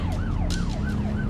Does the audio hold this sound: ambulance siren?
yes